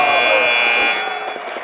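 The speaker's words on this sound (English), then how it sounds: "At the buzzer." A loud, sustained electronic buzzer blares at the end of a quarter in a high school boys' basketball game, holding for about a second before cutting off into faint gym noise.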